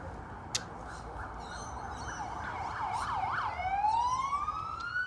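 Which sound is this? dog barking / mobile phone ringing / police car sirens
police car sirens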